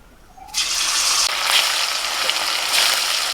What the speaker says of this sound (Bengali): তেলটা গরম হয়ে গেছে। এখন মাছগুলো ভেজে নেব।